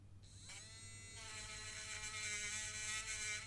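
A rechargeable USB electric eraser whirs up and spins steadily against a sanding block, a close, thin, high-pitched motor buzz over a low hum that holds level for a few seconds.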